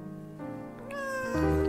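A cat meows in a drawn-out, rising wail, close and fairly clear, growing louder toward the end.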